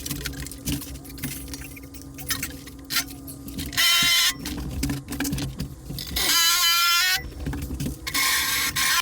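Screwing a back plate onto a homemade log burner in a workshop, heard as irregular metallic clanks, scrapes and rattles with two louder bursts of whirring, likely a power driver, midway and near the end.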